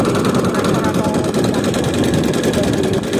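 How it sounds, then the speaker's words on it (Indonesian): An engine-driven air compressor pump powered by a general-purpose motor, used for washing motorbikes and cars, runs close and loud as a steady, dense droning rumble with no break. "Oh, pompa kompresor, pompa angin, bro."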